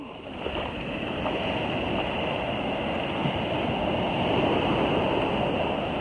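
High ocean waves breaking at a beach, a loud steady wash of surf and rushing water with no pause, close by and without talk.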